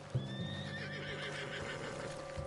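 A horse whinnies close by in Red Dead Redemption 2, a shrill rising neigh over a steady low ambient hum, with faint hoof clops underneath.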